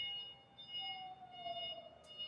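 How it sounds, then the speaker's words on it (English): Motion alarm on a Sinoboom 4047E electric scissor lift with a 700 lb capacity: a faint, steady high electronic tone sounds continuously over low machine hum, with a softer gliding tone partway through. "every time you move this lift, it's going to have that alarm sound"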